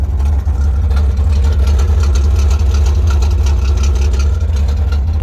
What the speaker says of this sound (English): It's got a 260 engine in it.